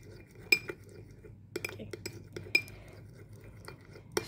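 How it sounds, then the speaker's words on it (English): A utensil stirring homemade slime in a bowl, with sharp clinks and taps against the bowl in irregular bursts, close and fairly quiet, with faint background noise and no talking. "Now we can mix it."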